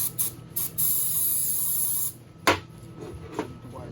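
Brake cleaner sprayed from an aerosol can onto a 6.4 Hemi engine cylinder head during a head gasket replacement, in several close hissing bursts, one long, followed by short clicks and scrapes.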